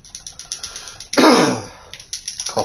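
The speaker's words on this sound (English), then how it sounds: "Coughing away." A person coughs and clears their throat once, a harsh close burst standing out against a quiet backdrop of rhythmic faint taps.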